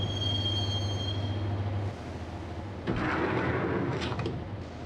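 A train rolls along in the Max Payne video game, its rumble and rattle continuous, with a brief high squeal early on and a burst of metallic screeching partway through, no voices.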